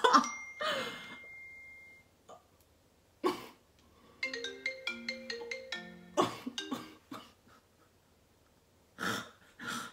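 Phone ringtone from a repeated incoming call: a short melodic electronic tune plays twice in a row, faint and close, surrounded by breathy laughs and coughs.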